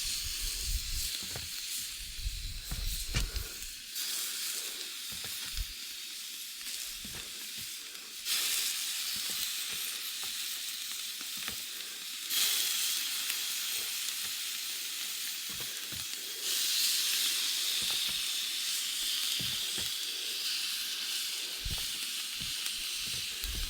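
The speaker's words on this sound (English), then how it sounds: "we're gonna get these on the grill" Elk steaks sizzling on a grill, a steady loud hiss of searing meat that continues throughout with small pops and crackles, close up.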